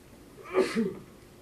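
A single faint sneeze, a short breathy burst with a quick second puff, set against quiet room tone.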